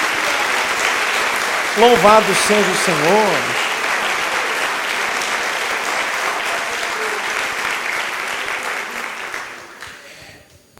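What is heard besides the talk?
congregation applause in church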